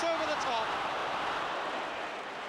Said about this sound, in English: So there's applause for Osgood for the way he chased it on that one.